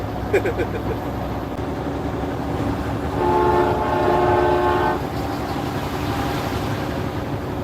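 A truck horn blares in one steady blast lasting about two seconds over a constant rumble of engine and road noise, during a convoy.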